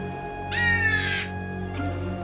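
A crow caws once, loud and close, in the Skyrim video game, a single harsh drawn-out call over steady ambient game music, followed by a brief fainter sound.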